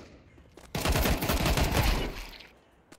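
Rapid video game gunfire erupts after a quiet start, a dense burst of loud shots rattling for about two seconds before fading out.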